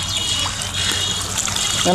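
A motor-driven water pump runs at a village pond in rural Bangladesh during fishing, giving a steady low hum under continuous splashing, trickling water, with voices faintly in the background.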